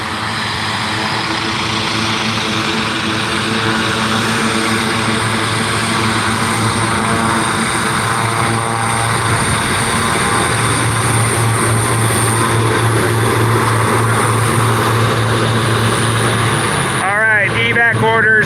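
A firefighting air tanker, a propeller aircraft, pulling in during a wildfire operation. It gives a loud, sustained droning engine roar with a strong low hum that holds steady, then shifts and swells near the end.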